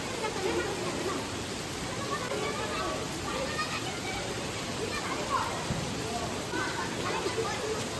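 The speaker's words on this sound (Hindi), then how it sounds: "अब रात होते होते बहुत तगड़ी बारिश लग गई" Steady heavy rain at night in Kullu Manali during flooding hisses across the whole stretch, a dense even wash of noise with faint insect-like chirps mixed in.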